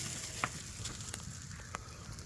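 Tri-tip sizzles inside a Hasty Bake Roughneck smoker, a faint, steady crackle with scattered soft pops and ticks and no voices.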